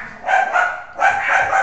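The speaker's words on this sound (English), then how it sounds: "Apologize for the dogs barking." Dogs bark in the background indoors during a hockey trading card box break, two loud clustered bursts of yapping about a second apart, with no talk over them.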